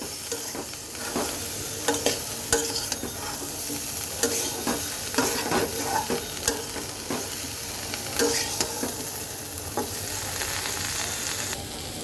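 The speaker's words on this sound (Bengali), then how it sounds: "এইবার সব কিছু একসাথে সুন্দর করে কয়েক মিনিট ভাজা ভাজা করব" Cauliflower and potatoes with spices fry in a pan, giving a constant sizzle broken by frequent sharp scrapes and knocks of a spoon stirring, close and fairly loud throughout, without talk.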